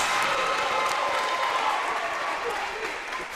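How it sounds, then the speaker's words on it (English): A crowd at a high school volleyball regional championship applauds steadily after an ace serve, a dense wash of clapping that slowly tapers, with a commentator's voice over it. "The crowd responding."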